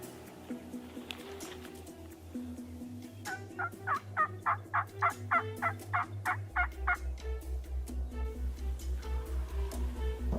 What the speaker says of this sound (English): I heard some gobbles go off into the corner of the field where the other birds were leaving to.